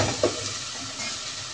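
Tomatoes and meat fry in a pan, giving a steady close sizzle with a brief stirring clatter near the start; no one speaks.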